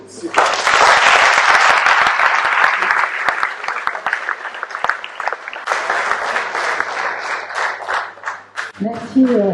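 Audience applause at a hospital inauguration ceremony, steady clapping that swells early, dips briefly, resumes, then gives way to a voice at the end.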